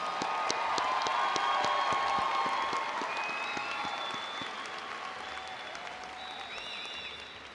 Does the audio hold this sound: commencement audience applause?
yes